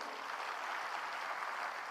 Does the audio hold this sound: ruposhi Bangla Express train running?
no